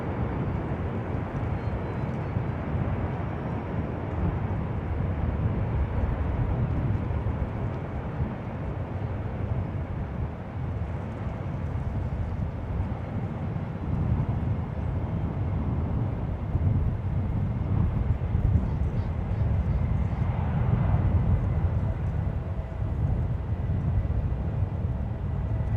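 A SkyWest jet landing on runway 28 left at San Francisco International Airport in a 19-knot wind, heard as a steady, broad engine roar and rumble mixed with wind buffeting on the microphone, holding level throughout.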